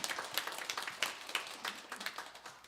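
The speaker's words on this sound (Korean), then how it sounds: "우리 경려의 박수 한번 올리겠습니다." A church congregation at a Sunday worship service applauds the choir with faint, scattered claps at a distance, steady throughout.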